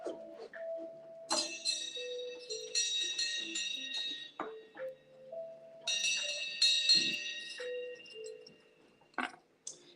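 A small spiritual bell rings in a quiet room, several clear bright tones struck in two clusters that ring out and fade, close and fairly soft.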